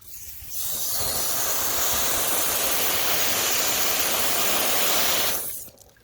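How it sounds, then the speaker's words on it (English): Water is blasted from a hose into a fabric shopping bag used as a grow bag, a loud steady hissing spray that starts abruptly, holds for about five seconds and cuts off. "I'm just going to shoot some water into there"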